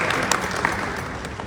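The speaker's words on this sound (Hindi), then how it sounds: "जोरदार तालियां अपने लिए बजाइए।" An audience at a business achievers' event applauds, a steady wash of crowd clapping with a few sharper individual claps standing out throughout.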